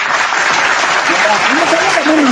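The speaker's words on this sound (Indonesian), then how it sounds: "Nah ini tepuk tangan dulu." Loud, dense applause from a crowd at a heated debate, continuous and close, with voices speaking over the clapping near the end.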